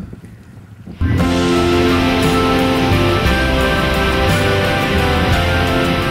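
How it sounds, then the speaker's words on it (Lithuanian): The thundering roar of Dettifoss, Europe's most powerful waterfall, in Iceland: a quieter first second gives way abruptly to a loud, continuous, broadband rush of falling water that holds steady to the end. "Šalia Detifos krioklio, kuris yra galingiausias krioklys visoje Europoje"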